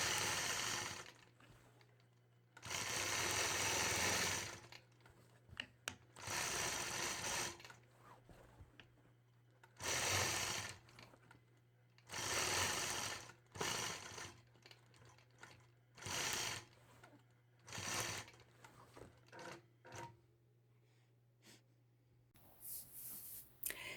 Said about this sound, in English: this next design that I'm stitching out here, again, using my brand new mini machine quilting ruler